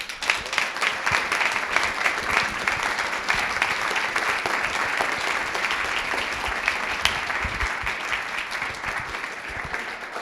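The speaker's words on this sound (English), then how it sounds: "they all deserve a big round of applause, please" A crowd at a Le Wagon Montréal coding bootcamp demo day gives sustained, even applause for about ten seconds, dense and steady with no talking over it.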